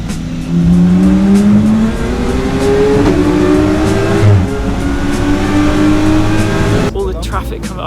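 Race cars on the Nürburgring during a VLN endurance race roar and rise in pitch as they accelerate with traffic, loud and continuous while someone talks over the engines.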